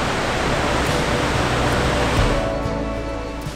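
Steady broadband roar of a waterfall along a hiking trail in Jasper National Park, Alberta, a constant loud rush of falling water with no voices, softening slightly toward the end.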